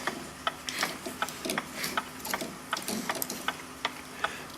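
A clock mainspring from a Gilbert kitchen clock sits in a spring winder, giving close, irregular mechanical ticks and ratchet-like clicks throughout.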